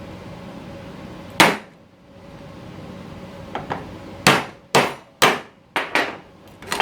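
Sharp metal hammer strikes on a screwdriver driven against a bushing in a 1975 Chevrolet C20 pickup truck abandoned for decades: one loud hit, then a quick run of about seven clanging blows with short gaps.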